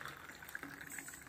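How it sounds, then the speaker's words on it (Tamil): Water pours into a pressure cooker for vegetable rava kichadi in a home kitchen, a faint, steady trickling splash over about a second with no talking. "ஸோ 4 டம்ளர் தண்ணிக்கு இப்போ 4 டம்ளர் தண்ணி ஊற்றிட்டு இருக்காங்க"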